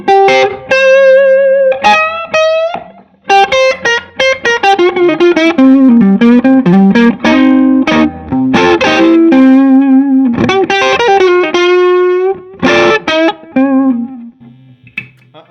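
Distorted electric guitar on the neck pickup with volume at 10 plays a run of notes and chords with a warm, thick tone, loud and alone, with a few pauses between phrases.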